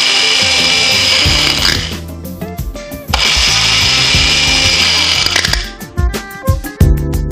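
A kitchen mixer grinder whirs loudly while powdering cumin, cinnamon, cloves and dried red chillies into dabeli masala, running in two long bursts with rattling spice, then stopping and pulsing in short choppy spurts.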